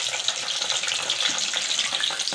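Stuffed chicken kachori frying in medium-hot oil, giving a steady, close crackling sizzle that runs evenly throughout with no talking.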